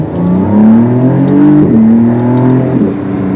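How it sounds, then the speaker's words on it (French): A McLaren Artura accelerates hard on a wet road, heard from inside the cabin: a loud, steady engine note climbs in pitch, briefly dips around a gear change, then rises again. "Essayons une petite accélération."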